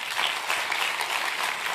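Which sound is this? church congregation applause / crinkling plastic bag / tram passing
church congregation applause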